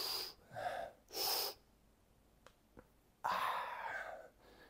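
A person takes deep, slow breaths while working on rib cage expansion in a posture exercise, two strong inhales close together, then quiet with faint clicks, then a long audible breath out.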